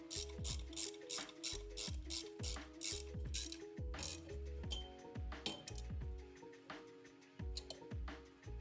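Two 5/8 wrenches tighten the pulley fasteners while a cable is replaced on a hi-low power stack, giving a steady run of quick ratcheting clicks and metallic clinks, close and fairly quiet, with no talking.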